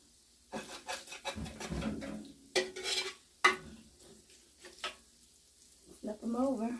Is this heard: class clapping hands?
no